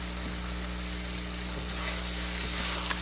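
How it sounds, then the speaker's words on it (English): Onions and ginger stir-frying in a pan, a dense close sizzle with occasional scraping stir strokes and a steady low hum beneath, no speech. "Keep mixing and stir frying."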